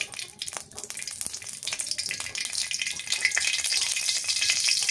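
Mustard oil heats in a wok with a crackling sizzle that builds and grows denser toward the end, scattered sharp pops over a steady hiss, close by and with no talking.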